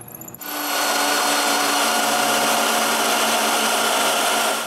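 A power drill spins up and bores a hole in a wooden block for a carriage bolt on a wooden band saw, a sudden start into a loud, steady, close whirring grind that holds without pause.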